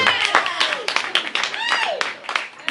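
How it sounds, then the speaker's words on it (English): An audience at a hypnosis show during a Christmas party claps their hands in a steady patter, with voices and whooping calls over the applause throughout. "Y'all clap your hands for these guys right here."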